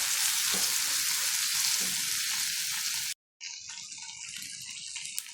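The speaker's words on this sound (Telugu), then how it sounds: "ఈ కారం కూడా కొంచెం పచ్చి వాసన పోయేంత వరకు కొంచెం ఇట్లనే ఫ్రై చేద్దాము" Chili powder sizzles steadily in a pan for pulse rasam, a dense close hiss that briefly drops out near the middle, then resumes with faint stirring scrapes.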